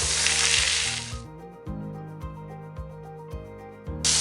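Ginger garlic paste hits hot oil in a pan for Kerala-style fish pollichathu, a bright burst of sizzling that cuts off abruptly, then quiet tonal clicks and thumps before the sizzle returns briefly at the end.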